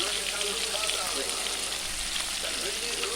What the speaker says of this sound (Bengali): তো দেখো বন্ধুরা মাছটা ভাজা হয়ে আসছে